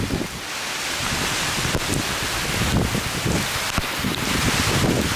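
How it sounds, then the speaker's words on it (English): Strong hurricane wind gusts from Hurricane Irma roar steadily through the open air, mixed with rain and rustling, loud and continuous with brief surges and no voices. "and the wind is kicking."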